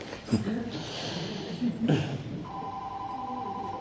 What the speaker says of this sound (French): C'est Jésus qui appelle?